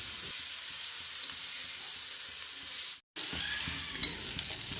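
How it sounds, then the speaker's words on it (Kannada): Sprouted beans fry in oil on a hot tava, giving a steady, close sizzle with stirring scrapes throughout and a brief silent break near the end before the frying resumes. "ಮೊಳಕೆಕಾಯಿಗಳನ್ನು ಇದನ್ನು ಚೆನ್ನಾಗಿ ಹುರಿಬೇಕು. ಸ್ವಲ್ಪ ಬ್ರೌನ್ ಕಲರ್ ಬರೋವರೆಗೂ ಇದಕ್ಕೆ ಎಣ್ಣೆ ಹಾಕಿ ಚೆನ್ನಾಗಿ ಹುರಿತಾ ಇರಬೇಕು."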